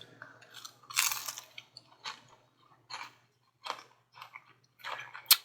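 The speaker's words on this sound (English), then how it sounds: "Hear that crunch? That's good." Crisp crunching bites and chewing of vegan banana bacon, close to the mic, in irregular bursts with short quiet gaps between.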